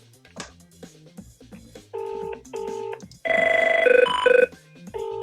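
Telephone ringing for an incoming caller on a live quiz phone-in show, sounding as two short electronic ring bursts followed by a longer, louder trilling ring and one more short burst, fairly close and clear.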